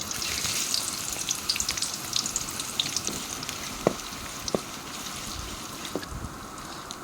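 Oil heating in a pan at the start of cooking a bottle gourd dish, a constant soft sizzle with scattered sharp pops and crackles, some louder ones standing out.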